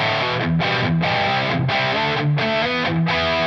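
Distorted electric guitar through a TONEX amp model with the bass control cutting from 600 down, leaving a thinner tone; four loud chugging chord bursts repeat in a steady rhythm with no voices.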